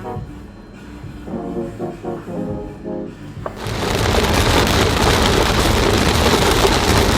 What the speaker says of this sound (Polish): zawsze ulewa